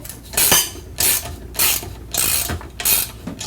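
Ratchet wrench tightening a clamp bolt on a valve cover, five bursts of rapid metallic clicking strokes in a steady rhythm, loud and close with no talk.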